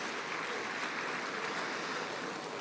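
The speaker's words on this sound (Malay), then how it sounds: "Berilah tepukan sikit pada PK dan KPA." Steady, moderately loud applause from a crowd at a monthly university assembly, a continuous even patter of many hands that carries on without breaks and with no speech over it.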